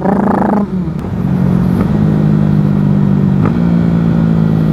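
Motorcycle engine downshifting, a steady loud drone whose pitch drops as the revs fall, with a couple of sharp cracks standing out against it, heard up close from the rider's position.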